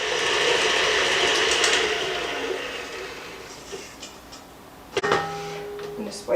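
An electric mixer whirs steadily through apple fritter bread batter, loud at first and gradually easing, then giving way to a few metallic clinks near the end.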